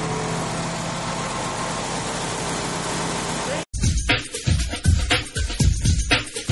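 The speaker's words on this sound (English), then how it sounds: "After engine startup, it's necessary to adjust the idle volume again." An engine with an electronic speed governor holds a steady idle after startup, a constant hum that cuts out abruptly partway through, followed by uneven clattering and knocking sounds.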